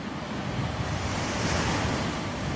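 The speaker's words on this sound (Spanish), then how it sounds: "La tormenta era terrible." Storm at sea in a hurricane: heavy surf and roaring wind sustained at a loud, steady level throughout, with dense crashing waves and gusting noise and no voices.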